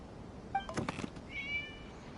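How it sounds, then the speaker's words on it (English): A cat meows in a video game, two short faint mews against steady background ambience, with a soft thump in between. "It was just a cat."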